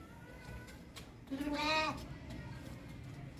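A sheep bleats once near its lamb in a livestock setting, a single loud wavering call rising over steady background noise.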